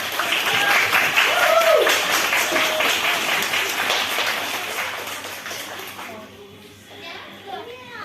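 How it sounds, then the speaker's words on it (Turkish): At a children's contest for Crimean Tatar flag day, an audience applauds loudly with children's voices mixed in, the clapping fading away over several seconds until only scattered chatter remains. "Alkışlar."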